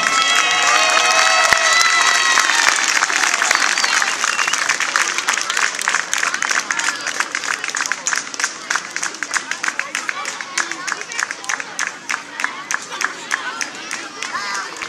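A crowd at a U10 youth international football tournament award ceremony, the VAFIK CUP 2007, breaks into loud cheering and shouting, then settles into steady rhythmic clapping that continues for many seconds nearby.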